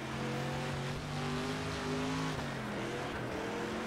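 Dirt race car engine in the World of Outlaws Dirt Racing video game, a steady loud drone with rising and falling pitch as the car accelerates and lifts through a corner, with no talk.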